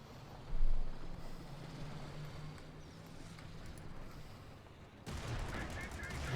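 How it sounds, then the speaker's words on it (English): Machine-gun fire and battle noise from a Company of Heroes 2 real-time strategy match, a steady dense din with a louder burst near the start and a sharper, brighter volley toward the end. "The machine gun crew quickly annihilating Ludwig, who stood no chance"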